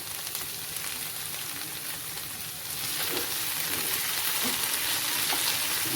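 Chicken with spring onion greens frying in a pan on the stove, a steady loud sizzle that grows brighter and stronger partway through, with faint stirring.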